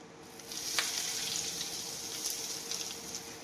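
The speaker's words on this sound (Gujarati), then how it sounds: "હવે આપણે વઘાર ફોદિયામાં એડ કરી દઈશું." A hot tempering with curry leaves is poured over fodiya made from bajra and maize flour, giving a close sizzling hiss that rises after half a second and holds steadily.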